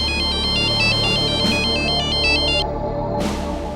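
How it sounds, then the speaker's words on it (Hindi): An electronic phone ringtone chirps in a repeating melodic pattern, loud and close, looping without pause. "दूसरे दिन एक और फोन कॉल ने इस सन्नाटे को चीर दिया।"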